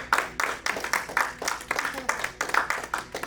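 Steady rhythmic hand clapping during a church service, roughly two claps per second, moderately quiet and mixed with voices.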